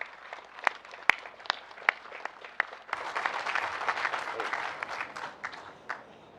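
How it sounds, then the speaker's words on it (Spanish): Scattered sharp claps give way to a steady burst of applause from a crowd at a public event in Tlaxcoaque, Mexico City, for Head of Government Claudia Sheinbaum, filling the room and continuing to the end. "Alejandro Encinas, para quien pedimos un fuerte aplauso"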